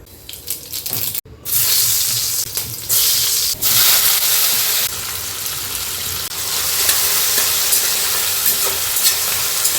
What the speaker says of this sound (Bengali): এখানে বসিয়ে দিয়েছি কড়াই এবারে চিকেনের ঝোলটা আগে রান্না করব ফটাফট